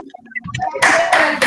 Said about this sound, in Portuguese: no sé si todos podemos abrir nuestros micrófonos para dar un aplauso virtual